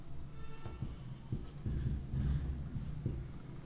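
Marker or chalk writing on a classroom board during a geography lesson, producing soft, uneven scratchy strokes in short bursts, close and fairly faint.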